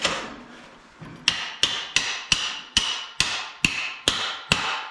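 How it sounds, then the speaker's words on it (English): Steady hammer blows on a metal swingarm of a 1981 Can-Am motocross motorcycle, about ten sharp ringing strikes at a regular pace, loud and close, with no talking. "I'm getting a hammer"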